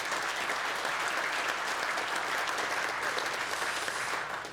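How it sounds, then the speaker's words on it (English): Steady, full-room applause rolls through an innovation awards ceremony for sponsor AWS, a thick, even patter of many hands that tapers slightly at the end. "So again, what about a round of applause for"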